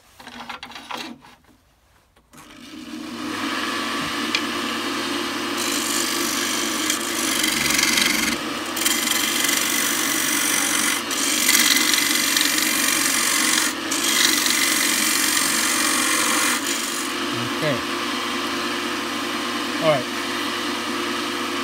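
A gouge cuts a live-edge wooden bowl on a lathe, a steady close rasping scrape over the motor's hum that runs almost continuously after a brief quiet start, with a few small knocks and swells in intensity.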